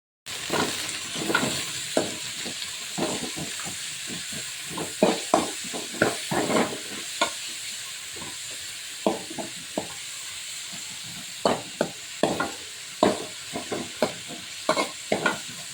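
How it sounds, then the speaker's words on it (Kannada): Spinach is fried in hot oil in a pan for a chicken palak gravy: a constant sizzle runs beneath frequent, close spatula scrapes and stirring knocks in irregular bursts. "ಈಗ ಎಣ್ಣೆಗೆ ನಾವು ಬಿಸಿಯಾಗಿರೋ ಎಣ್ಣೆಗೆ ಈಗ ನಾನು ಪಾಲಕ್ ಸೊಪ್ಪನ್ನು ಹಾಕಿ ಚೆನ್ನಾಗಿ ಫ್ರೈ ಮಾಡ್ತಾಯಿದ್ದೀನಿ"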